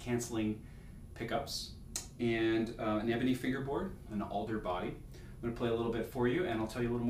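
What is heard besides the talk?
None of the usual background noises is heard.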